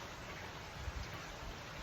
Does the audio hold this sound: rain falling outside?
yes